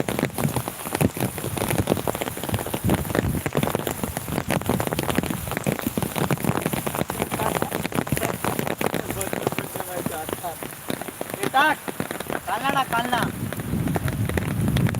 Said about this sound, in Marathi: हे का पाऊस पडलो आहे बघा